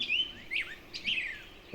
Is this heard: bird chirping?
yes